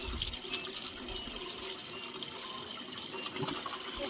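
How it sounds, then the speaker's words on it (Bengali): Water pours steadily from a tap or shower while long hair is rinsed after shampooing, a close continuous gushing splash with slight shifts in flow and no talking. "চলো এবার ভালো করে ধুয়ে ধুয়ে চুলটাকে।"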